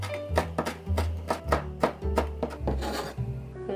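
Knife chopping Cheongyang chili peppers on a cutting board, with a steady run of sharp, close taps about three per second and no talking, while preparing seasoned cockles.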